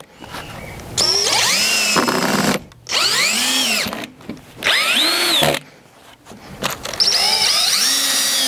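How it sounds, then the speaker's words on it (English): A power drill drives screws into pilot holes in pallet wood for a planter, several bursts of whining motor that rise and fall in pitch, separated by short pauses, close and loud. "we're just going to screw those screws down into those pilot holes to hold it together"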